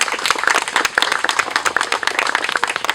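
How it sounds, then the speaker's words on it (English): Audience clapping for a Salisbury City Council member at the Andean bear cub naming ceremony at Salisbury Zoo, a steady dense patter of many hands close by that continues for three seconds with no pause. "If you'll give her a round of applause, please."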